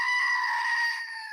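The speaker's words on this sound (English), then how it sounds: "This is my little Rebecca goat." A pet goat lets out a single long, loud, nasal bleat close by, held steadily for over a second before tapering slightly at the end, with no voices.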